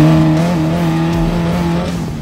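Class 11 Baja Bug air-cooled engine held at full throttle in third gear on sand, a loud, steady close droning roar with strong even harmonics that sags slightly near the end, no talking over it.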